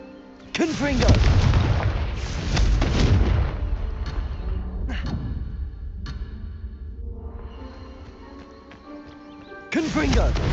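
Confringo fire-blast spells explode in Hogwarts Legacy: a loud, close boom opens a long rumbling roar that slowly fades, then sharper blasts crack mid-way and another hits at the end, with a voice calling out between them.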